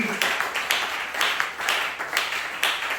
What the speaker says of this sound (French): Jésus, applaudissez pour le Seigneur Jésus